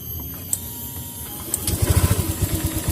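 A motorcycle engine cranking and catching during a TPS sensor test in a workshop, a few clicks then a quick chugging pulse of firing strokes building into a rough idle.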